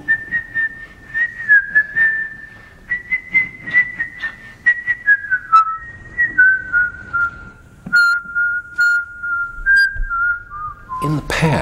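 A person whistling a series of sustained and gently wavering notes, clear and close, in short phrases with breathy gaps, the pitch gradually stepping down.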